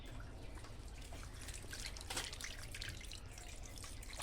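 Freshly cut fish rinsed under a running kitchen tap, a quiet, steady stream of splashing and dripping water with no voices.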